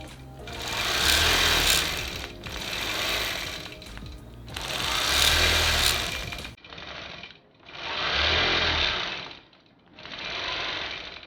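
A quilting sewing machine stitching in the ditch runs in loud bursts of rapid, rhythmic stitching, several runs of a second or two separated by short pauses, close and alone.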